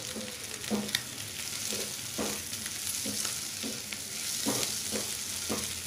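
Boiled potatoes, browned after two minutes of frying for a dry sabji, sizzle in a pan as a spoon stirs them in regular close scrapes over a steady hiss.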